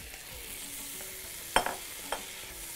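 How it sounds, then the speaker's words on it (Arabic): Pasta sautéing in a pan for a shrimp and calamari dish, giving a soft steady sizzle with a few sharp scraping clicks from stirring, close and moderately quiet. "المكرونه عشان تتشوح كده. ونقلب."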